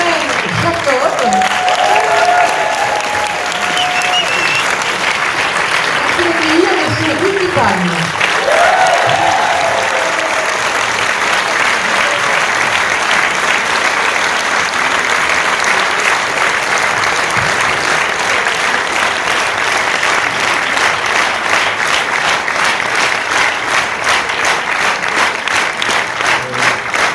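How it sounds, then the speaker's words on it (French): Long, sustained audience applause at a film premiere, dense rhythmic clapping from a packed hall that holds steady throughout, with a few voices briefly audible early on. "il ne faut pas applaudir trop longtemps"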